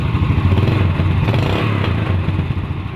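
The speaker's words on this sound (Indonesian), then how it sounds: "motor dipastikan pasti menyala dan bisa hidup kayak gini" Yamaha Vega R motorcycle engine idling steadily after a repair to its electrics, a loud, close, continuous low putter with light mechanical clatter throughout.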